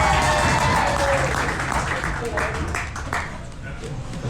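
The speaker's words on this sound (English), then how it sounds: "Give him a round of applause." A live crowd applauds at a sumo event in Asakusa, with steady clapping filling the clip loudly and evenly while someone talks over it.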